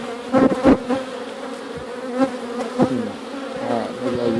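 Honey bees buzz loudly and close during a backyard inspection of a large hive, a dense droning hum with individual bees swelling past, and no voices.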